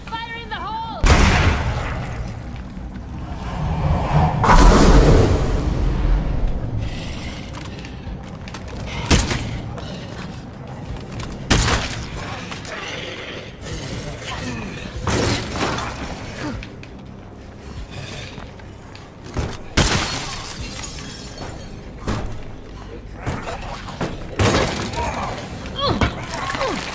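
A thrown explosive goes off in State of Decay 2, with a heavy boom and clatter among repeated sharp bangs and impacts across the stretch, and voices talk over the action.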